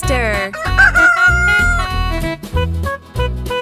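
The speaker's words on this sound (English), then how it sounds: "Rooster." A rooster crows loudly and close, a long drawn-out call over a steady musical backing, with no talking.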